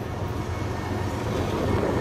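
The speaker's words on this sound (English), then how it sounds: "we got a train coming by" Continuous low rumble of a train passing near the VFW Memorial Wall in Vancouver, Washington, steady and broad without pauses.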